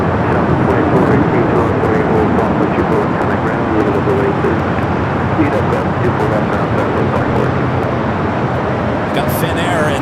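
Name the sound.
Emirates Airbus A380 taking off at LAX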